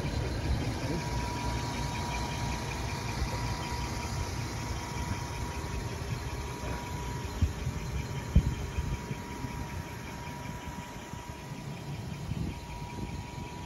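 A 1995 Jaguar XJS V12 engine idles steadily, a smooth, even low hum with a faint mechanical tick and a couple of small knocks near the end, no voices present.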